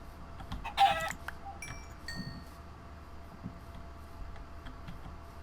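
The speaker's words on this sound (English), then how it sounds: "There's chickens over this way. There's a chicken." Chickens in the Minecraft video game cluck in a few short, scattered bursts, one louder cluck near the start followed by fainter chirps and clicks over a quiet, low background.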